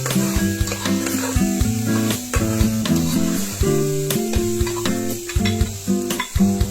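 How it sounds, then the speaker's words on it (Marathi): Mutton masala and turmeric sauté in a pan for a green chili and pea pulao, with steady sizzling and stirring scrapes heard over background music. "थोडासा मटन मसाला टाकते. आणि परतून घेते."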